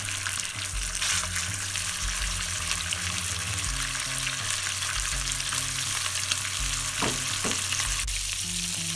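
Minced beef browns in olive oil with a loud, continuous close sizzle, broken by the occasional scrape and clatter of stirring.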